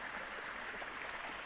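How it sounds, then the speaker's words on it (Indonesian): A river swollen by flooding rushes past in a steady, continuous broadband wash of water, close and even throughout with no voices. "sungainya ini"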